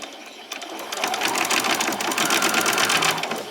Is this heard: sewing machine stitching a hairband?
yes